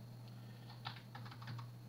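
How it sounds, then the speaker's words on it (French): Soft, quick clicks of typing on a computer keyboard, a short burst of keystrokes over a constant low hum, faint and close with no talking. "Ah, je tape sur le clavier."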